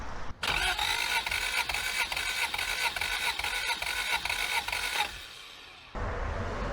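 A Toyota AE86 engine cranks over on the starter with fuel and ignition off and the throttle held wide open, a loud, even rhythmic churning for about five seconds before it stops.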